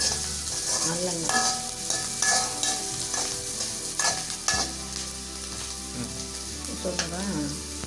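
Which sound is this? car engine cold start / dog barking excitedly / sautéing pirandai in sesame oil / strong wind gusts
sautéing pirandai in sesame oil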